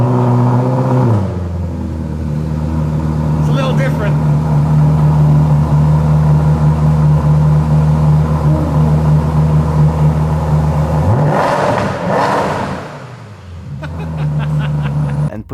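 A Maserati Coupe's naturally aspirated 4.2 liter V8, developed by Ferrari, idles with a steady deep rumble, then revs up sharply near the end, dropping back to idle with another brief blip, close and loud with no talk.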